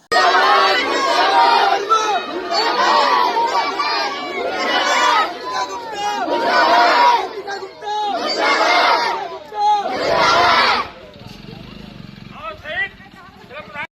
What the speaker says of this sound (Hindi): इसमें जो नन्हे बच्चे हैं वो अपने कपार पर अपना बस्ता उठाकर जो है वो अवंतिका गुप्ता को लेकर जो है वो नारा लगा रहे हैं